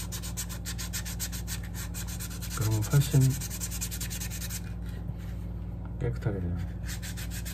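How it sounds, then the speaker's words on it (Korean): Sandpaper rubbed by hand over a carved maple wood fish pendant in a humid basement workshop, a steady dense scratchy rasp running throughout with brief speech over it. "이거를 이제 사포로 매끈하게 마감을 하는 거지"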